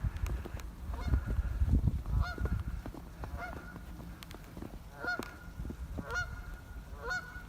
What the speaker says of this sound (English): So we have a Canadian geese, or I guess it looks like just one out there